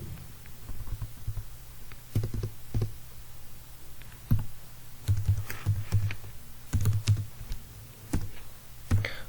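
Typing C code on a computer keyboard, an uneven run of close, crisp key clicks coming in short bursts with brief pauses between them, and no voices over it.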